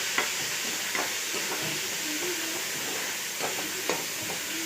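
Chopped tomatoes and softened onions sauté in a pan for a fish curry, a soft, even sizzle under intermittent spoon scrapes and taps as they are stirred, fairly quiet and with no voices.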